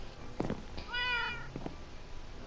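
In the Minecraft video game, a cat meows, giving a short mew followed by a longer, drawn-out meow, close and clear against a quiet background.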